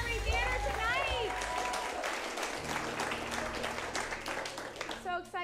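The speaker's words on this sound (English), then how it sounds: "Give yourselves a round of applause for coming out to Curious Comedy Theater tonight" A comedy theater audience at an improv show applauds loudly with dense clapping and cheering, whoops and calls rising over the clapping throughout.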